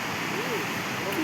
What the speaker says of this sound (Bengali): এই জায়গাটা পুরো একদম সেই সমুদ্রে জলের মতো সাউন্ড দিচ্ছে।